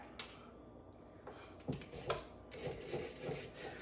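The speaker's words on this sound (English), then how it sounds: "So I'm gonna peel up the carrot, and I'm also gonna peel the zucchini." A peeler rasps along a raw carrot in a home kitchen, a series of quiet, close scraping strokes with short pauses between them.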